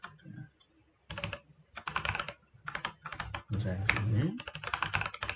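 Code is typed on a computer keyboard in quick, irregular bursts of clicking keys, close and clear, with someone talking over the taps at times.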